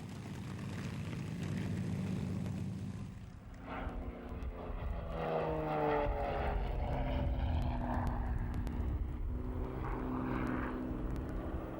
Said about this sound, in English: the lovingly cared for City of Lincoln, the only flying example of the Lancaster bomber